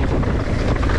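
Strong wind buffets the microphone outdoors on a wooded trail among tree roots during a mountain bike ride, a loud continuous rumbling roar with gusting swells and no speech.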